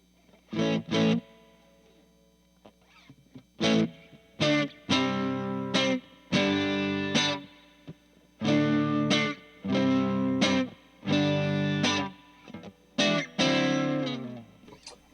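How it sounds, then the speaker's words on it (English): Crunchy distorted electric guitar, a rebuilt vintage Japanese guitar, plays short chords and phrases separated by brief silences, close and fairly loud. "Let's add a little bit of distortion. I'm going to add a little bit of crunch."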